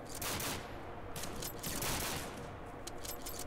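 Rapid gunfire from the shooter game Kuboom plays as a dense, continuous burst of overlapping shots, loud and close throughout.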